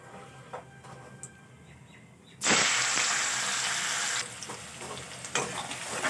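Chopped onion hits hot oil already tempered with dried red chili and nigella seeds, bursting into a loud, steady sizzle after a quieter crackle of spices, with occasional stirring clinks through the frying.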